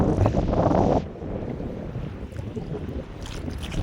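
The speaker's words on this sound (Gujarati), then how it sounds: "આજે પવન વધારે છે" Strong wind gusts buffet the microphone on a fishing boat at sea, a loud blustery rush over the lapping of waves against the boat.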